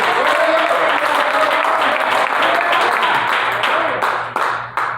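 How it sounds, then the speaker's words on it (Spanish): Congregation applauding during a Spanish-language Pentecostal church service in Hermiston, Oregon, a loud sustained wash of clapping that thins out near the end. "Dame un aplauso a Dios."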